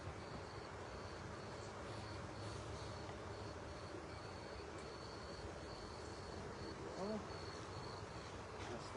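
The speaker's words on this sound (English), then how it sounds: "There's a large gathering of bees back here." Honeybees gather in a dense cluster at the back of an opened hive, a steady low buzzing hum close by and continuous, with a brief louder bee passing near the end; no talking.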